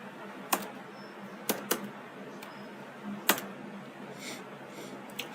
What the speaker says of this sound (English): Let's type the form as well.